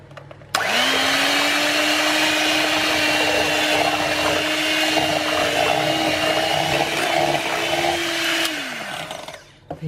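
An electric hand whisk churns almond milk into a peanut butter bread batter, its motor starting abruptly, whirring loud and steady at one pitch for about eight seconds, then winding down and stopping.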